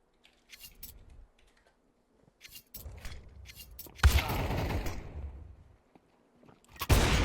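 Gunfire during a competitive team-shooter esports match: sharp, clustered shot bursts and impacts with bursts of noisy clatter, a loud barrage midway and another near the end, separated by brief quiet gaps; no talking.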